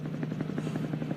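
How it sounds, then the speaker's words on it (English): A helicopter passes overhead with a steady, loud rotor chop, a fast even pulse over a low engine drone that holds at the same level throughout. "Helicopters?"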